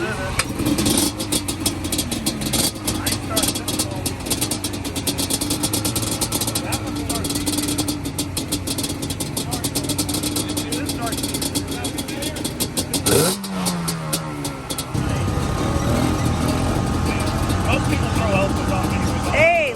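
Motorcycle engine kicked and fired up at an outdoor swap meet, a loud, rough, continuous running and revving close by with a sharp burst partway through, while people talk over it.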